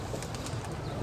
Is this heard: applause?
no